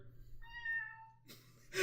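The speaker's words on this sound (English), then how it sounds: "The cat call can be heard in the background there." A cat meows once in the background, a faint drawn-out wavering cry set over a low hum, followed by a short burst of noise.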